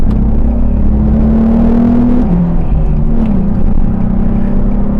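A V8 car with a six-speed gearbox, held in second gear, pulls along a highway with a loud steady engine drone. The pitch climbs slowly, then dips once and settles again under continuous road rumble.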